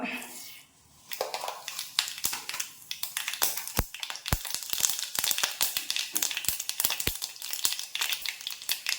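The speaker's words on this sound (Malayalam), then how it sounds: "കടുക് പൊട്ടിയിട്ടുണ്ട്" Mustard seeds splutter in hot oil in a pan, a dense, continuous crackle of sharp pops with scattered louder cracks, heard up close and growing busier after a brief quiet start.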